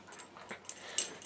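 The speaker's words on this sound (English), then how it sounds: "two dogs are fighting over toys, and it's making it harder for me to focus" Two dogs tussling over a toy give brief, faint whimpers and yips, a few soft squeaky cries spread across a quiet indoor moment with no talking.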